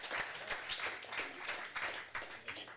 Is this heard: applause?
yes